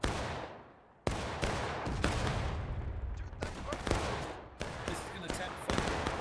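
Musket volleys crack out in the Civil War battle game War of Rights at Burnside Bridge, a loud opening shot followed by a dense run of near and distant rifle reports, some overlapping in ragged fusillades.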